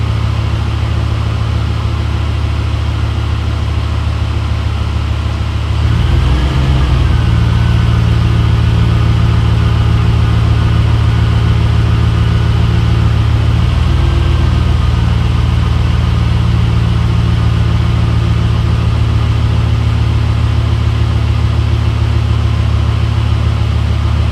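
A 2008 Ford F-150 engine idles steadily after a mass air flow sensor replacement, with a loud, constant close-up hum throughout and a slight change in tone a few seconds in, alone with no voices.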